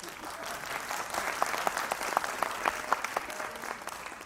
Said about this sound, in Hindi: इतनी तालियां।